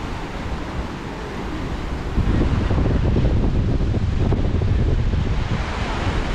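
Strong current of the Pampanga River rushing steadily, a loud continuous broadband roar with wind buffeting the microphone, growing louder after the first couple of seconds.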